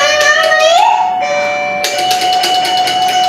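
A calling bell or doorbell rings as a bright electronic chime, a short series of clear ringing tones that sounds close and fairly loud.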